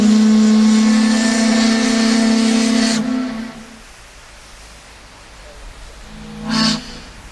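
A loud, long steam locomotive whistle blast in a train simulator game sounds, then cuts off; after a few seconds of hiss, a brief second toot follows.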